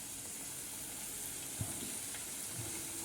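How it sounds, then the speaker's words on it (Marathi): Pieces of shankarpale dough, a Maharashtrian fried snack, bubble in hot oil in a wok with a soft, steady sizzle and a faint clink partway through, close and quiet, with no speech. "आता याला आपण थोडंसं तेलामध्ये तळून घेणार आहोत।"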